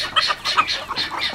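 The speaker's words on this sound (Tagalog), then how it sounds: "O, yung naririnig nyo yun yung mga bengala." Guinea fowl calling on a farm: a run of harsh, rhythmic, squawking cries repeating several times in quick succession, fairly close and clear, with no talking.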